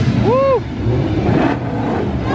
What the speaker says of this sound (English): get the recording of the car just pulling away